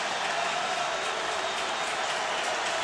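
Notre Dame fans at a college football game against Virginia applaud, a soft, distant, even wash of clapping and crowd noise across the stadium.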